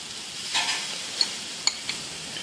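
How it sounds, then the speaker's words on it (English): Pineapple slices sizzle on the upper rack of a grill beside Hawaiian pork chops, giving a faint, steady hiss broken by a few small sharp pops. "we're going to put them on the top layer, higher level of the grill, so we can get these cooked up"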